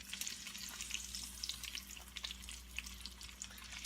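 Chicken pieces browning in batches across two frying pans, with a steady crackling sizzle and scattered pops of hot fat, close and continuous with no talking.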